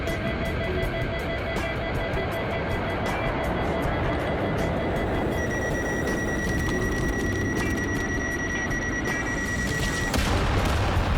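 An aircraft gun fires in a low-poly air combat video game: a dense, continuous rattle of rapid shots over a droning engine hum, with a brief high tone partway through and a heavier burst at the end.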